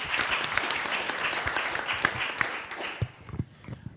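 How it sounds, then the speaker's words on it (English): Fairly quiet audience applause at a corporate purpose summit, a steady patter of many hands that thins out over the last second. "Round of applause."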